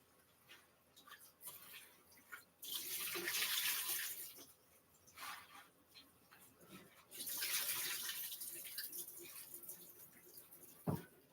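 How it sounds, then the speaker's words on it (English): Food being rinsed under a running water tap at a sink, the flowing water swelling loud in two long bursts with quieter trickling between and a sharp clunk near the end. "I'm just going to rinse these off under the pipe"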